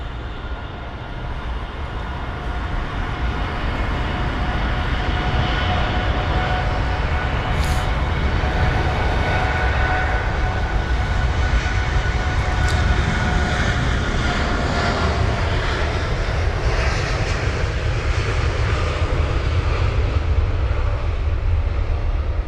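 A seven-year-old Boeing 787 at London Heathrow, bound for Delhi, roars with loud jet engine noise that holds steady and broadband throughout, close and continuous with no talk.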